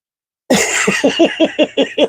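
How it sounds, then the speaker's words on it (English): A single harsh cough breaks into a rapid series of short hacking coughs, close and loud, like someone trying to clear the throat. "I'm trying to cough that hairball up."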